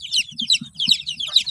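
Hens and chicks clucking in a coop, a quick run of high chirps and peeping over lower clucks, close and fairly loud with no talk.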